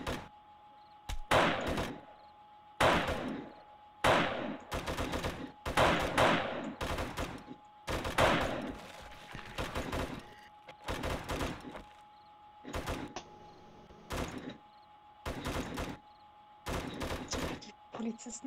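Gunfire in the video game 7 Days to Die, with many sharp bursts of shots in irregular clusters separated by short pauses across the whole stretch, loud and close, with a voice speaking softly in places.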